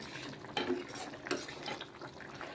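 Crushed pepper powder being stirred into boti curry in a pan, faint scraping and clinking of a spoon in a few quick strokes, with no one talking.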